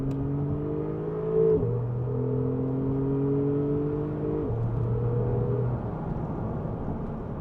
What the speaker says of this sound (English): this is a 2017 plate Porsche 911 Carrera S